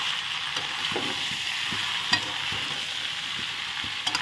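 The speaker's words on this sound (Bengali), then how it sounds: "এই যে এখন নেড়ে চেড়ে আমি কষিয়ে নিই" Goat liver stir-fries in a pan with a continuous close sizzle and scattered clicks of a spatula stirring, no voices.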